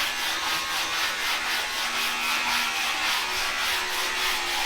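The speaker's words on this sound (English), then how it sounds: "How's sanding fiberglass?" Fiberglass on a car fender is sanded by hand, a continuous close rasping scrub with a steady back-and-forth pulse throughout.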